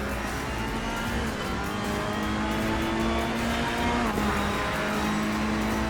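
A race car engine screams steadily at high revs during a virtual onboard lap of Spa-Francorchamps in a racing video game, a continuous loud drone with a brief pitch dip as a gear shifts.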